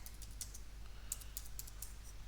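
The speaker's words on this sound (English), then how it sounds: "I need to type install" Computer keyboard keys tapped in short bursts of quick clicks, faint and close, over a steady low hum with no voices.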